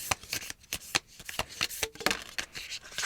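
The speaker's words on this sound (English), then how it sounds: "This is a new deck and it's kind of difficult to shuffle, but I'll do my best" A new tarot deck being shuffled by hand makes a rapid run of crisp riffling and snapping card bursts, close and irregular, with no talking.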